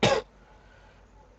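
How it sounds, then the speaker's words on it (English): A single short, sharp cough close to the microphone, followed by quiet room tone. "Sorry, a lot of coughing on this show."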